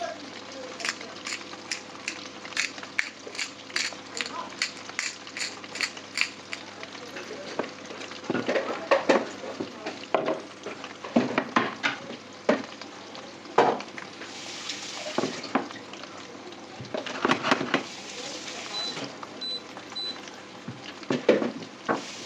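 Speck frying in a pan, a steady crackling sizzle with dense popping and occasional stirring scrapes, while a person talks over it now and then.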